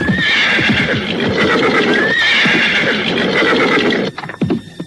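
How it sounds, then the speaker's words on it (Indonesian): A horse gallops with rapid hoof clip-clop while neighing loudly twice, close and prominent, before the hoofbeats break off and it slows to a stop. "Dan seketika itu juga kuda itu menghentikan larinya"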